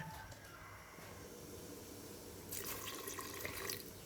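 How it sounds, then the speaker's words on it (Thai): Water is poured into a pot of Isan-style bamboo shoot curry with red ant eggs, a steady liquid splash that swells louder toward the end, with no voices. "หลังจากนั้นเขาก็เติมน้ำ"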